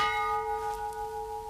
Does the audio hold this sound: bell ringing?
yes